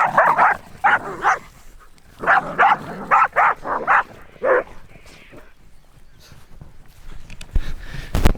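Two dogs that grew up together bark and play fight nearby in repeated loud bursts, with growly scuffling between them; the barking thins out toward the end, leaving quieter rustling and a few sharp knocks.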